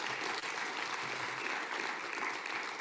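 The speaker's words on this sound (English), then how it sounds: "Ladies and gentlemen, please give them a round of applause." A large audience applauds after a panel discussion on renewable export opportunities, producing steady, even clapping that holds at a constant level for about three seconds.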